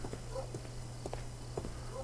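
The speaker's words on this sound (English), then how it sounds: "That's the horse." A horse's hooves clip-clop steadily on a street in the Victorian London setting of the video game Sherlock Holmes Crimes and Punishments, a moderate walking rhythm over a constant low engine-like hum.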